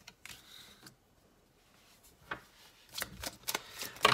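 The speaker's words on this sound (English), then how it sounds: "I'm going to keep shuffling until I get 8 cards." Tarot cards are shuffled by hand in a quiet room, with soft riffling bursts, a lull, then a cluster of crisper snaps and flicks toward the end.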